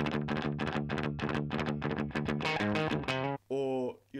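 An electric guitar runs through a cranked clean amp channel, giving a gritty, crunchy tone as a rapid series of picked notes and chords rings out, then ends with a couple of short sustained notes.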